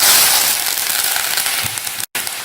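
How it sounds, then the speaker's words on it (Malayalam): Curry leaves hit hot oil in a pan for mango pickle, giving a bright, busy crackle and sizzle, loud at first and easing a little, with no voices. "അതിലോട്ട് നമുക്ക് കറിവേപ്പില ചേർത്ത് കൊടുക്കാം."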